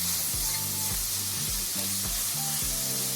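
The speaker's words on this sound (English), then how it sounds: "We're just going to completely brown our sausage" Sausage browning in a pan gives a loud, steady sizzle and hiss, broken by a regular rhythm of low scraping knocks as it is stirred, close up with no talking.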